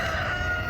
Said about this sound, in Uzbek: Bular Andijon qora tovuq xo'rozchalari.